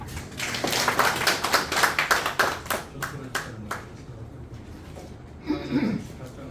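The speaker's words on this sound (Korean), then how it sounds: "감사의 박수" A church congregation gathered for morning worship claps in thanks, loud sharp claps for about four seconds that thin out and fade, with a voice speaking briefly near the end.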